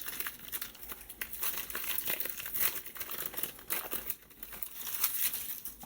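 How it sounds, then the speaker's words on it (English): Trading card packs being ripped open make close, busy crinkling and tearing of foil wrappers in repeated bursts, with no talking. "I'm going to need Blue to come down here and rip at least 1 or 2 packs"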